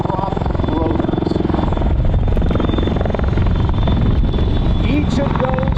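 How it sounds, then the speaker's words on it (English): An MV-22 Osprey tilt-rotor aircraft at MCAS Cherry Point thunders with the steady, loud, rhythmic chop of its big prop rotors and engine drone, close and continuous, while someone talks over it. "you see the tilt rotors with the engines mounted on the ends of the wings, directly connected to what they call the prop rotors"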